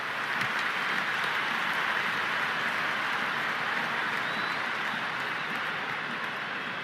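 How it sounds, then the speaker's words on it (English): A large stadium crowd roars continuously in the Cricket 26 video game during an RCB versus MI match, a dense, even wash of cheering that holds steady from start to finish. "The crowd is electric right now."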